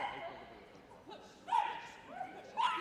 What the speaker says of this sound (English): She's the noisiest wild cocker Cassie has ever trained